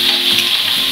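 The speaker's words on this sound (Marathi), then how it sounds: "हे वाटण घातले की छान असे परतून घ्यायचे" Ground masala paste sautéing in a pan for gawar bhaji, a brief, steady, close sizzle with a faint stirring texture.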